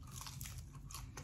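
A single crunchy bite into a spicy honey fried chicken wing from Wingstop, a brief, quiet crackling crunch up close with a low background hum.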